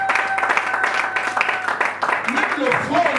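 Worshippers at a church service applaud and acclaim the Lord: continuous crowd clapping, loud and near, mixed with shouting voices and a held keyboard-like note.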